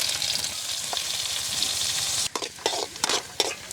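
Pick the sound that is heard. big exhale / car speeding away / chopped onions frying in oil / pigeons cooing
chopped onions frying in oil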